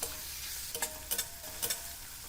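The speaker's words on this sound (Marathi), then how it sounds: "टोमॅटो मऊ होईपर्यंत परतून घेऊया" Tomato being sautéed with an onion-garlic masala in a pan, a soft low sizzle broken by several quick scraping stirs, close but fairly quiet, no talking.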